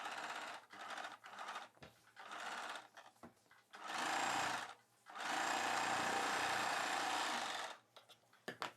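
A sewing machine runs in bursts while stitching the side seam of a cross-cut blouse, short stuttering runs giving way to two long steady whirring passes, close and loud with no talking.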